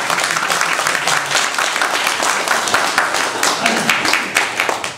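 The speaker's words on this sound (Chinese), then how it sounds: "大家拍手。" A book launch audience breaks into loud, sustained applause, a dense wash of many hands clapping at close range that holds steady before tapering off at the end.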